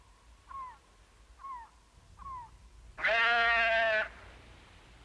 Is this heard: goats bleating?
yes